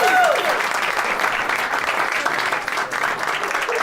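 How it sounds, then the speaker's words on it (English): Applause from the audience at a Victorian-style comedy stage magic show in the USA, a loud, dense crowd clapping that holds steady for several seconds with no one speaking. "A big round of applause, please."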